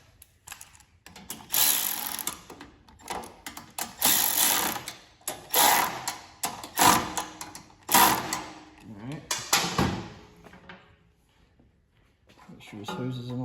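Nuts being tightened on a Troy-bilt snow blower give off repeated bursts of ratcheting clicks in uneven spurts, close and fairly loud, with pauses between.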